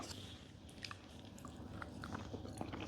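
A bite into a cocoa cream-filled snack gives soft crunching and chewing close to the mouth, a few crisp snaps over steady low background noise, with no talking.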